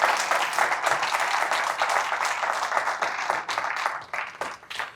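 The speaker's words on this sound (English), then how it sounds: "Can we give Dan another round of applause?" Audience applause for a speaker named Dan at a leadership course, a dense round of clapping that holds steady for several seconds and thins toward the end.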